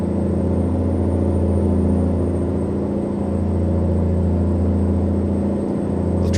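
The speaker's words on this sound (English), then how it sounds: "The truck sounds nice." A heavy-haul truck engine in American Truck Simulator, a budget build, drones steadily and evenly at a low pitch throughout, loud and close with no talk over it.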